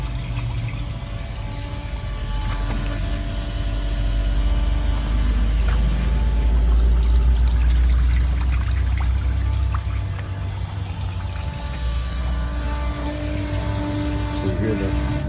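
A pump motor labors steadily while draining the black waste holding tank of an Airstream Interstate RV, a continuous low drone with gurgling, trickling liquid over roughly fifteen seconds.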